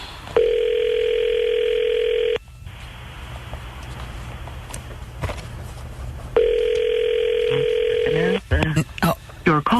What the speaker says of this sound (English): Oh, it's ringing now at least.